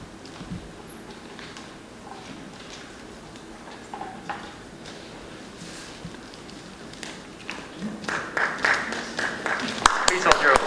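Scattered clapping from an audience at a National Honor Society induction ceremony builds near the end, a loose patter of hands growing louder beneath a person talking.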